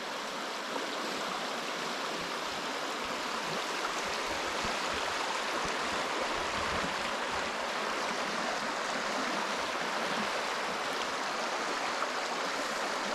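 Spring Creek flows beneath an old railway trestle at a former glass sand works, a soft, continuous rushing and gurgling of water, steady and faint with no voices.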